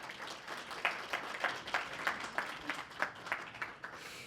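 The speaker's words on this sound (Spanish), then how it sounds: "Un aplauso para Lili, por favor." Audience applause for an author at a book fair presentation, a fairly quiet, distant patter of claps with a few sharper individual claps standing out through the few seconds.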